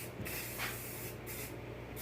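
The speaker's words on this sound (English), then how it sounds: "in this clip you'll see me spray painting with the primer" An aerosol can sprays primer onto a brass elevator panel in a continuous, close hiss with brief shifts in intensity.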